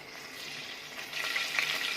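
Two spoonfuls of oil heat in a pan to temper cooked cowpea greens. A continuous close, hissing sizzle with light crackles swells slightly toward the end.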